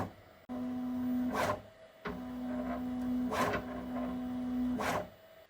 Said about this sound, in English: Motor noise calibration.